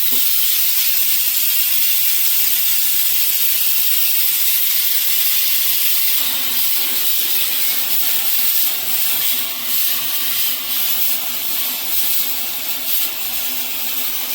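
A loud, continuous steam hiss from a pressure cooker whistle while cooking rice, sputtering and wavering slightly in strength.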